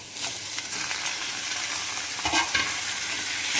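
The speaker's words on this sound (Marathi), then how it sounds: "टोमॅटो पण ह्याच्यामध्ये चांगलं भाजून घ्यायचं." Tomatoes fry with onions in a hot pan, a steady close sizzle with stirring scrapes throughout, no voices.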